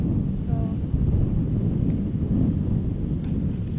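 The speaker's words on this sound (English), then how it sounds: "Oh, that wind." Steady wind gusting across an open golf course, a continuous low rumbling roar buffeting the microphone throughout with no letup.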